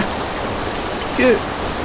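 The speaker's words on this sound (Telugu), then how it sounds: "ఇంత పెద్ద వర్షంలో ఇక్కడేం చేస్తున్నావురా?" Heavy rain pours down in an even, close hiss, with a brief voiced sound rising over it near the middle.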